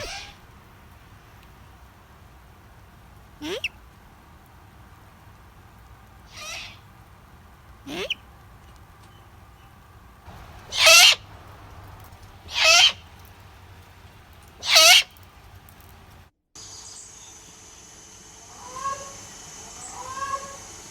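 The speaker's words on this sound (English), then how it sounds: "here are some birds we recorded." Sharp bird calls ring out one at a time a few seconds apart, growing louder, then give way to a quieter stretch with faint distant chirps.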